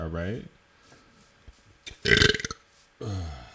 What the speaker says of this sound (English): Nothing like a good belch into the microphone